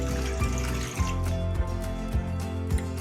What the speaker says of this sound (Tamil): தண்ணி சேர்த்துக்கலாம்.